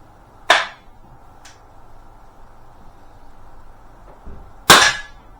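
Two sharp air pistol shots from a Webley Tempest or Beeman P17, loud and close with quick decays and a few seconds of quiet room tone between them, plus a faint click in the middle.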